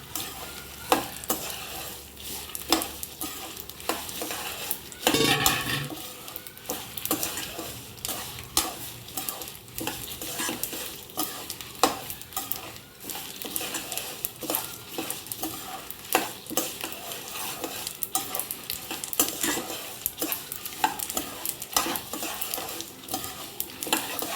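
Red chillies frying in a pan for a tindora curry, with a continuous crackling sizzle and frequent scraping and clinking of a utensil against the pan throughout. There is no speech.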